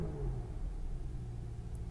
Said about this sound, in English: Let's turn this car on and see how this car sounds.